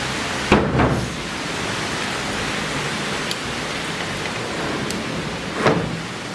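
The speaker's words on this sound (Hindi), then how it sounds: "इतनी तेज़ बारिश हो रखी है भाई," Heavy rain pours down outside, a steady broadband hiss filling the scene from start to finish, with a couple of louder splashes or gusts near the beginning and end; no one speaks.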